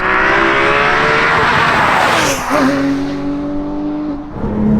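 A high-revving Porsche 911 GT3 RS (997.1) engine roars loudly, its pitch climbing, dipping with a gear change, then climbing again, with no talking.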